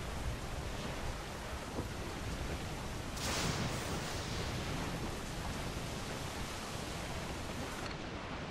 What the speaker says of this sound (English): Storm there, Captain!